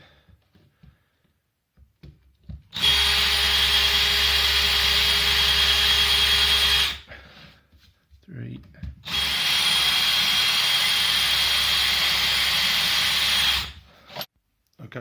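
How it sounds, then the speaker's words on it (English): A power drill whines loudly in two long, sustained bursts separated by a short pause, drilling holes in a wall close by, with a brief spoken word near the start. "Okay, so I've finished drilling all the holes."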